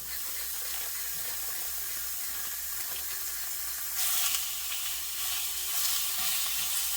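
Lean burger meat fries in a warm pan without oil, giving a continuous loud sizzle and hiss that swells midway.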